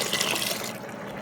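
Water pours steadily into a pot of cowboy chili being mixed, a continuous rushing fill that thins out near the end, close and fairly loud with no voices.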